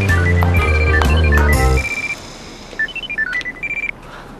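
Telephone ringing indoors with a loud electronic tonal ringtone melody, which cuts off and is followed by a quieter repeated chime pattern.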